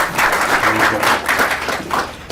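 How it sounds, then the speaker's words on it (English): An audience at an annual kickoff celebration breaks into loud, close applause, many hands clapping in a dense, continuous roar from start to finish. "So I'd like some applause for Mark."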